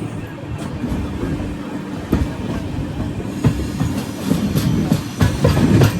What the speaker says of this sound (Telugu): మన ట్రైన్ అయితే స్టార్ట్ అయిపోయింది